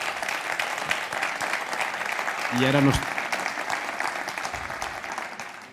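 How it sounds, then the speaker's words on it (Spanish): An audience applauds a guest speaker at an arbitration event, a sustained wash of clapping that swells briefly while a voice speaks over it. "os ruego que le deis un fuerte aplauso"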